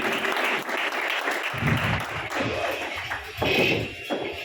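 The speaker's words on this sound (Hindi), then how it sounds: "भरपूर तालियां होनी चाहिए जनाब उस्ताद मोहतरम के लिए" A crowd claps for an honored ustad at a village roof-inauguration gathering in Narowal district, a brisk, loud burst of applause with uneven swells and a few thumping claps.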